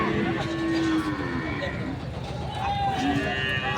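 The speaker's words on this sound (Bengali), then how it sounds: "আকর্ষণীয় গরু" A cow moos loudly nearby at a Dhaka cattle farm before Eid al-Adha, with long drawn-out calls, while people talk over it and other cattle low in the background.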